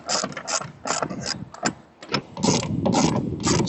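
A ratchet drives a lag bolt into an outdoor antenna bracket, giving a close, loud series of clicking strokes in an uneven rhythm, with a short pause before the cranking resumes more steadily.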